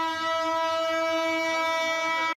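A train horn blares loud and steady for about two seconds, a rich stack of sustained tones close by, then cuts off abruptly.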